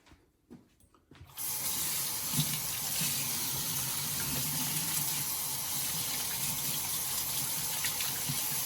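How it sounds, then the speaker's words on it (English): Tap water runs steadily into a sink while hands are washed with soap, a continuous close splashing gush that starts after a brief quiet moment and carries on alone without talk. "So I've washed my hands with soap and water."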